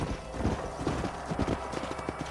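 Horse hooves clip-clop steadily in a Red Dead Redemption game scene, a rhythmic run of hoofbeats under a broad wash of background game noise.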